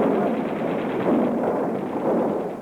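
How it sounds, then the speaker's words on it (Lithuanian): Continuous rumbling gunfire and explosions in war-torn Beirut, a dense, steady roar of distant battle with no clear breaks and no voices. "Kažkas sakė, ar motina girdinti šios sprogimus?"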